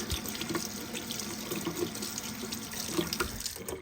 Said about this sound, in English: We'll take the wash rag, give it a good once over, put soap on it, warm water.